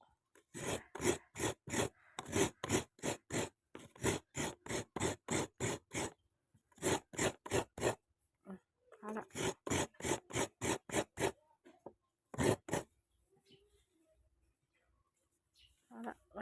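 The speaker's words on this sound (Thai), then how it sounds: "นี่กระต่ายขูดบักผ้าว" A coconut is scraped on a rabbit-shaped coconut grater in loud, evenly spaced rasping strokes, repeated in long runs separated by brief pauses, close and with no talk.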